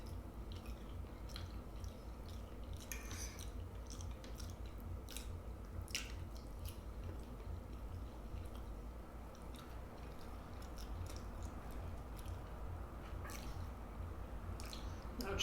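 Close, quiet chewing of surf and turf with smothered onions, wet squishy bites and soft smacking repeating steadily without talk.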